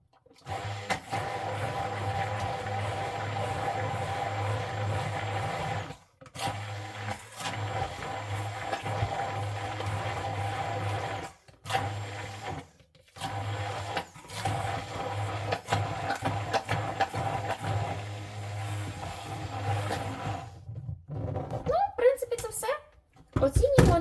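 Homemade mayonnaise whipped with an electric blender or mixer, a steady low motor whir running in long stretches broken by several short pauses, with clunks and handling noises near the end.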